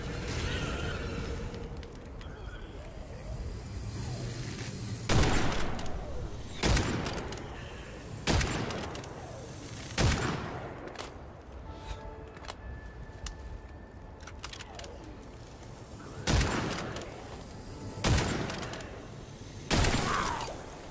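Gunfire in Witchfire, a first-person shooter: about nine heavy, booming shots spaced a second or two apart, with mechanical clicks and clattering reload sounds filling the gaps between them.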